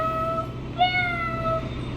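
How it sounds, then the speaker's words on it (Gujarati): A cat at a temple gives two clear, close meows in quick succession over a low, steady background murmur. "આ સામે છે કેટ."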